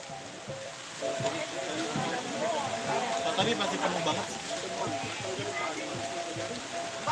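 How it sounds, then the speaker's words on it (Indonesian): Rain patters steadily in the background while a person speaks briefly over it. "Hujan nih guys."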